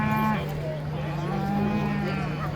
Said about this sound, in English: The Cherry Red cattle you see before you today are the legacy of so much foresight by the breeders and the stocksmen